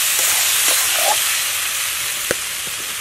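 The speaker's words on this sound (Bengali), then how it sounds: "এটাকে ভালো করে একটু কষে নেব" Prawns sizzle in a pan during village-style cooking of elephant foot yam with prawns, giving a loud, continuous frying hiss with occasional soft stirring scrapes.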